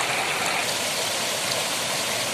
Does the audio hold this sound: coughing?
no